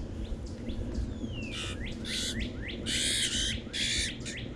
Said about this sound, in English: This is a medium-sized bird.